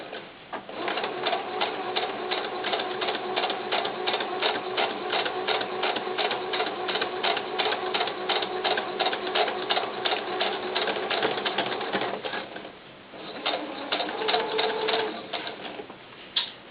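Sewing machine stitching fabric for doll pants, a steady rapid stitching run close to the mic, then a short pause and a second briefer burst of stitching.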